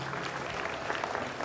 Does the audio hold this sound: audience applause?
yes